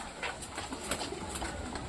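Soft pigeon cooing, faint and low, repeating a few times over quiet background noise.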